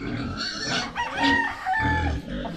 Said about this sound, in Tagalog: Magandang manok yan